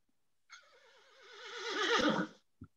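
A horse whinnies once, a single long neigh with a wavering quaver, fairly close and clear, followed by a brief soft thud.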